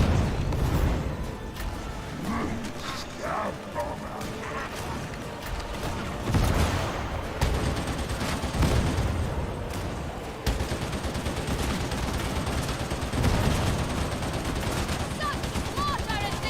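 Ogryn gunfire in Warhammer 40,000: Darktide: heavy, sustained bursts of automatic shooting keep up through the whole stretch, loud and dense, with brief swells and mechanical clatter mixed in.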